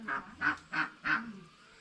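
Red ducks at a rural Vietnamese home give four distinct nasal quacks in quick succession, moderately close and fairly quiet.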